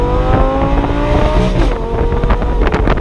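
Alfa Romeo Giulia Quadrifoglio engine blipping and revving through downshifts, a loud close-up mechanical roar with shifting harmonic tones and some wind buffeting, no talking.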